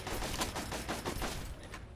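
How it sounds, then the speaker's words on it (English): Machine gun fire in the video game Fallout 3, heard as a dense, steady run of rapid shots at moderate distance that thins out toward the end. "Oh god, there's a machine gun up there."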